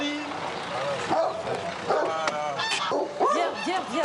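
Dogs barking at a French goose farm raising geese for foie gras, with several sharp barks and yips mixed with honking geese close by, while people speak over the noise.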